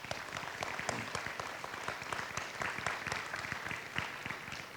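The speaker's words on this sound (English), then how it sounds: "Let's give these soldiers a round of applause." A crowd at a 2nd BSB battalion change-of-command and responsibility ceremony applauds soldiers, a steady, even wash of clapping held for several seconds at moderate distance.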